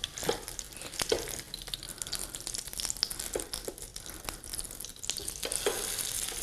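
Chicken pieces frying in a pan over a low flame, a steady close sizzle with soft crackles and occasional scraping taps as the pieces are handled.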